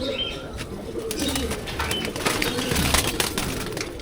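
A racing pigeon from a loft gives low, rolling coos close by amid scattered clicks and shuffling, with a loud bump near the middle and no speech.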